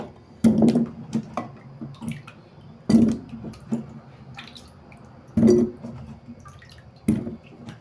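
Water poured into a cooking pot of cut yam for a vegetable pottage, heard as several short splashy bursts and drips spaced a couple of seconds apart, close and moderately loud, with no talking.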